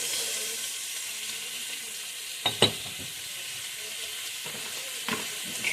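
Chicken and mushroom stew cooks in a pot after salt is added, giving a steady close sizzle and bubbling hiss with a few sharp clinks of a utensil.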